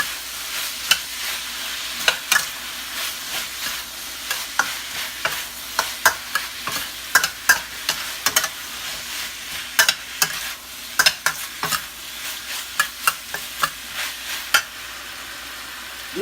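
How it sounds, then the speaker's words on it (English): Cashew chicken stir-fries in a small home kitchen, sizzling steadily with repeated sharp clacks and scrapes of a utensil against the pan, irregular bursts over a continuous hiss. "So you fry them until you can see like it's sticky."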